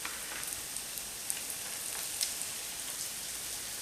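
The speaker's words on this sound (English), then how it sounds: "we're going to pan sear those until they become golden brown" Panko-breaded tofu searing in a frying pan gives a faint, steady hiss of sizzling oil with scattered small pops and crackles.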